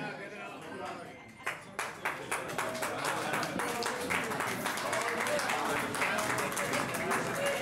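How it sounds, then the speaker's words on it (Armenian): An audience at a family celebration breaks into applause. Scattered claps build within two seconds into dense, steady clapping that fills the rest of the clip, with talk and crowd murmur underneath. "համեցեք բարձր ծափերով"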